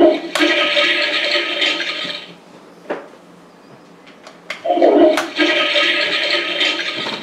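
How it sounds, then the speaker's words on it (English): Toilet Trouble toy game's plastic toilet gives two loud, close electronic flush bursts with a rushing, gurgling wash, each lasting about two seconds and separated by a quieter stretch of small clicks and clatter. "it was a little bubble in the bowl like it was about to flush"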